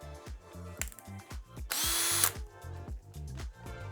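A power drill runs in short, sharp bursts while drilling pocket holes in wood. A longer, louder grinding whine sits in the middle of the run, close up with no talking.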